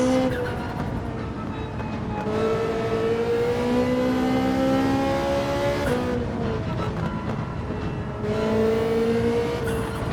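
A Ferrari 458 Italia race car in a racing video game endurance race, its engine revving up and down through gear changes at steady volume, with pitch rising and dropping in long sweeps under a constant roar.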